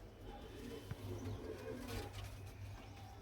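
Soft pigeon cooing murmurs on and off at a steady low pitch, fairly close, with a faint rustle and a brief tap partway through.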